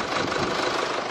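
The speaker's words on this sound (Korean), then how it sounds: "바로 엔진 소리 한번 들려드릴게요." A 2017 Mercedes-Benz E220 4Matic idles with its hood open and the air conditioning running, giving a smooth, steady, close engine hum with no knocks or revs during the brief moment.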